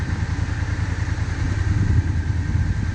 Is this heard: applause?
no